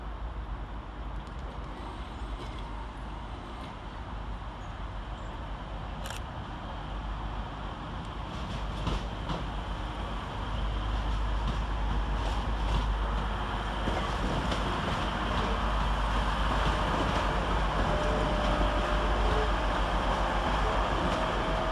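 Class 185 unit 185136 arriving at Manchester Piccadilly station, a steady low rumble with broadband rail and wind noise that builds and stays loud after the first few seconds.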